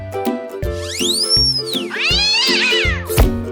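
Cartoon cat in a kids' fountain-crossing game meows several times, with long rising-and-falling cries and a caterwaul-like wail, set over a steady, rhythmic game music backing.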